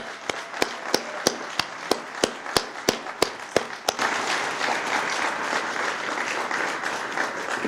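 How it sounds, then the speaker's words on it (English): Applause for grant recipients at an ARPA grant awards presentation, opening with a rhythmic series of sharp, evenly spaced claps that swells into a fuller crowd applause held steady to the end. "Let's give a round of applause for them."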